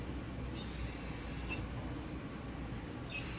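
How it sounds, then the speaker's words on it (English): Two bursts of hissing fly spray from a spray bottle, each lasting about a second, misted into a fan's airflow over its steady low hum. "I'm just spraying it into the path of the fan and letting it mist"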